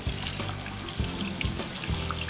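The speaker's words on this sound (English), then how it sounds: "Rinse it off." Lean meat is rinsed under a running kitchen tap, giving a steady close gush of water into the sink, broken by a few splashy thumps as the meat moves under the stream.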